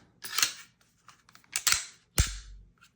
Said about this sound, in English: That clicks down